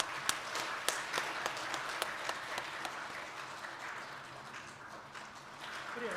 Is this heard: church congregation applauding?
yes